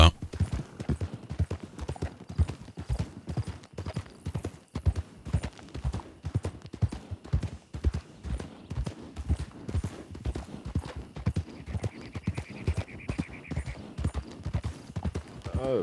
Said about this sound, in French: votre cheval est rapide comme l'éclair